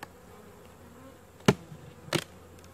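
A faint, steady hum of many honey bees buzzing close by in an open hive, broken by two sharp knocks or clunks.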